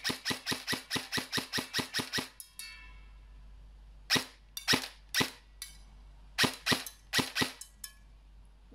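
Airsoft VFC M4 Avalon Calibur CQC electric rifle with stock barrel, fired at a range of about thirty metres: a fast burst of sharp cracks, then scattered single and paired shots, loud and close with no talk.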